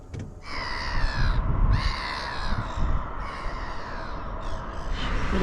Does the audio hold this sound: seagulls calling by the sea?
yes